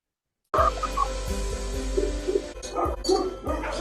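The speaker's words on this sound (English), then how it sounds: "You guys hear that barking?" Several dogs bark in quick, repeated bursts, with yips mixed in, fairly close and loud over a low background hum.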